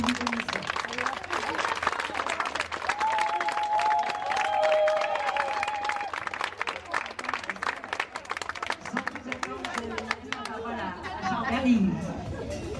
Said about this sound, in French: très fort, vous applaudissiez le Théâtre Liberté